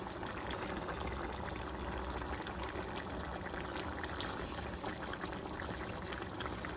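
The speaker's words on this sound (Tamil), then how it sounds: "தண்ணி நல்லா கொதிக்குது" Steady rolling bubble and hiss of water boiling hard in a pot for cooking rice, close and continuous without any break.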